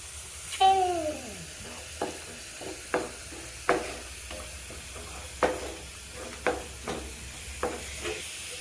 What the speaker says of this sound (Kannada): ಈಗ ರುಬ್ಬಿಟ್ಕೊಂಡಿರೋ ಪೇಸ್ಟ್ನ ಹಾಕ್ಕೊಳ್ತಾ ಇದ್ದೀನಿ, ಟೊಮೊಟೊ ಮತ್ತು ಗೋಡಂಬಿದು